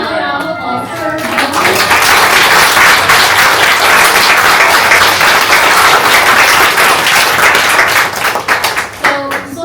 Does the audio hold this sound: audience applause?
yes